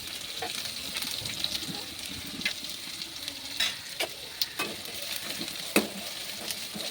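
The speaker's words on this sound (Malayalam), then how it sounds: "നമ്മൾ ഉള്ളി നേരത്തെ അരിഞ്ഞ് വെച്ചതിൻ്റെ ബാക്കി ഉള്ളി അതിനകത്തോട്ട് ചേർത്ത് കൊടുക്കാം. നല്ലോണം ഒന്ന് വഴറ്റിയെടുക്കാതെ." Onions sautéing in a pan for Kerala-style fish curry gravy, with a soft continuous sizzle and irregular scraping and tapping strokes of a spoon stirring them, close and moderately quiet.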